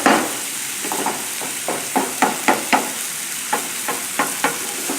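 Onions frying over a high flame for Middle Eastern spiced tilapia, a steady close sizzle broken by a series of scraping stirs of the pan, with no one talking.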